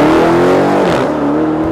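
Dodge Demon production drag car accelerating hard, a loud, close engine roar with steady harmonic pitch that rises and holds, then cuts off abruptly at the end.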